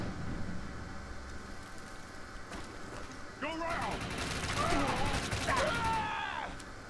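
Rapid assault rifle fire in the shooter game Defiance sounds as quick bursts, mostly in the second half, over a constant low game background, with a voice speaking alongside.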